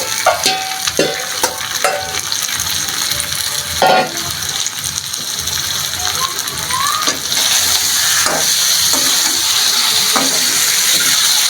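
Chicken pieces drop into a pan of browned onions and fry with a loud, continuous sizzle, punctuated by several sharp clinks and scrapes of stirring, and the sizzle intensifies partway through.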